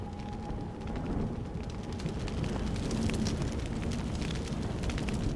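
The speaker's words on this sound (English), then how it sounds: "Okay, so this is on fire." Fire burning in the Deus Ex: Human Revolution video game, a steady low roaring rumble with faint crackles, continuous and fairly quiet with no voices over it.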